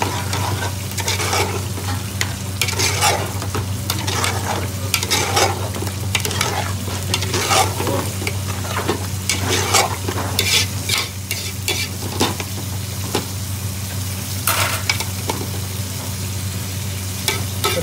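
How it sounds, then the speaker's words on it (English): Garlic chilli chicken being stirred in a frying pan, restaurant style: a constant close sizzle with repeated scraping strokes of the spoon against the pan, no talk. "Give that a mix."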